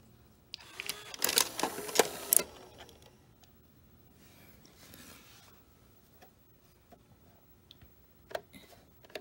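Mechanism of a Panasonic NV-870 VCR ejecting a tape, heard up close: a short burst of whirring motor and gear clatter, then quieter mechanical shuffling and scattered clicks.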